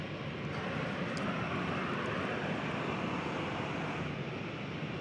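A Delta Airbus A320 jet airliner bound for Minneapolis–St. Paul gives off a steady, broad engine roar at DFW Airport, holding an even loudness throughout.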